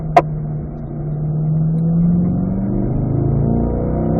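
A Corvette on a race track drops back to third gear, a sharp click followed by the engine droning at mid pitch, climbing and falling as revs change, loud and close inside the car with no talk.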